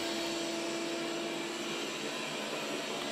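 A Dreame L10 Prime robot vacuum runs on carpet, giving a steady, even whirring drone with a constant motor whine, close and unbroken for the whole stretch.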